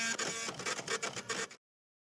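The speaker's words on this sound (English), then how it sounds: "Each order is automatically accepted and printed using the printer connected to your POS." A POS receipt printer connected to a Clover point-of-sale system prints an order, giving a loud, continuous buzzing with rhythmic pulses for about a second and a half before stopping abruptly.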